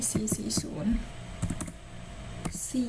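Keys clack on a computer keyboard in scattered quick taps and short bursts nearby, with a voice speaking quietly under the typing.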